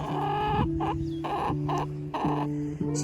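Several chickens cluck close by on a farm in a run of short, rhythmic calls, with steady music playing underneath.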